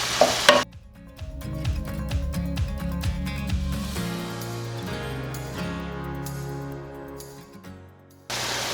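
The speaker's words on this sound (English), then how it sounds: "I'll have the sauce stirred up, and then add the rice" Sauce stirred in a pan during home meal prep for a cozy weekend, a soft steady scraping and sizzling that runs for several seconds after a brief louder clatter, fairly close and alone.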